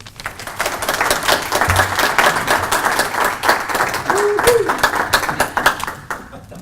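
A lecture audience in Lincoln welcomes a speaker with applause, steady dense clapping from many hands filling the room for several seconds before tapering off, with a brief voice emerging near the end.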